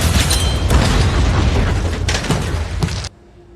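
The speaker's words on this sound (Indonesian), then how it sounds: "Dan ketika sudah dekat dengan Julian, bom itu langsung meledak dan membuat Julian tidak terselamatkan." A bomb goes off in an action film scene, a loud broadband blast with rumbling debris and crackling bursts rolling on for about three seconds before cutting sharply to near silence.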